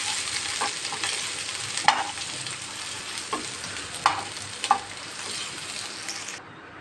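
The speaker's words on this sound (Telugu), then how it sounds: "ఇలా ఆనియన్స్ అనేవి మంచి కలర్ వచ్చాక ఫ్రై చేసేసుకొని" Sliced onions fry in about four spoons of oil in a pan on a stove, a soft continuous sizzle close by, punctuated every second or so by sharp scrapes and clinks of a stirring spoon against the metal.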